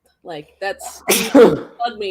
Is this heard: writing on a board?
no